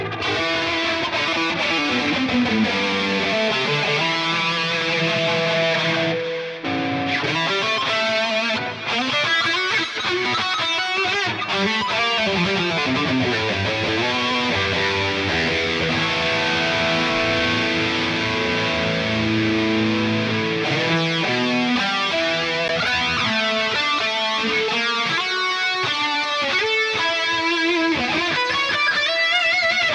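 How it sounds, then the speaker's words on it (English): An electric guitar plays through a PolyChrome DSP pedal with reverb and stereo delay, a dense, continuous wash of notes, loud and sustained with no voices. "Added together with maybe the sharp reverb. Take down the mix knob. Add some stereo delay."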